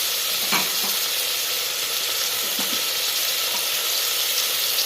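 Chopped onions with salt frying in a hot pan, a continuous loud sizzle up close with a few soft stirring knocks, no talking.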